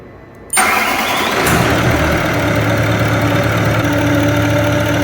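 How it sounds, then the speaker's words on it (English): A marine diesel engine in a parallel hybrid propulsion system cranks and fires after a brief quiet moment, then settles into a loud, steady, rumbling idle that runs on without talk. "Now we can start the diesel."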